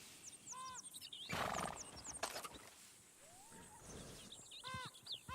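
A horse in the Red Dead Redemption 2 video game whinnies and snorts close by, with soft hoof clops and ambient wildlife in a quiet outdoor scene.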